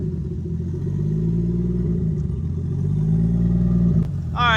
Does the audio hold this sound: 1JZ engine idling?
yes